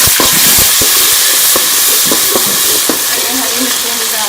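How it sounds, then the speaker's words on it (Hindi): Tomatoes, coriander and spices fry for chana pulao with a loud, continuous hissing sizzle in the pan, punctuated by sharp clicks and taps of stirring. "इसको हम अच्छी तरह से भून लेंगे।"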